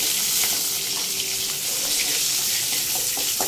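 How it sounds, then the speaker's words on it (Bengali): Small cut pieces of fish frying in a pan for homemade chilli fish, giving a steady, close hiss of sizzling oil throughout with no talk. "মাছের পিসগুলোকে একদম ছোট ছোট করে কাটা আছে, আর এটাকে এখন ভাজা হচ্ছে"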